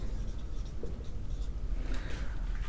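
Pen or chalk writes steadily by hand during a Class 10 math lesson, producing soft continuous scratching strokes, near and fairly quiet, with no talk over it.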